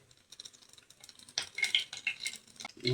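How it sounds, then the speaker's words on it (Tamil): Vadagam dropped into hot oil for an egg dosa gravy, with faint clinks and stirring at first, then louder crackling, sizzling and spattering pops in a pan. "கொஞ்சம் வடக்கம் போட்டு தாளிச்சுக்குவோம்"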